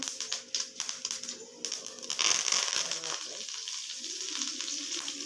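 Mustard seeds crackle and pop in hot oil while a dry fish gravy is cooked, a dense burst of sharp snaps and sizzle that swells midway and settles into steady frying.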